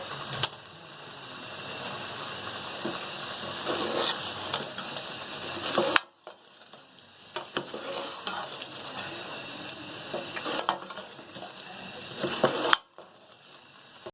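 Chicken karahi stir-frying in butter over a high flame: a bright, continuous sizzle with scraping and stirring noises, broken by two short cuts.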